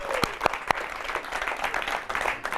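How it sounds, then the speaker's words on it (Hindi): A studio audience claps steadily for the guests on a Hindi talk show, a dense, close wash of applause with a few sharper individual claps standing out near the start. "ये ऑडियंस आपके लिए बहुत ताली बजा रही है"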